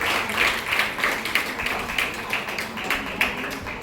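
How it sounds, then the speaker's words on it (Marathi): An audience at a cooking competition claps for a prize announcement, giving a steady, even patter of hand claps from a moderate-sized crowd that holds at a constant level throughout. "आपण टाळ्या देऊयात."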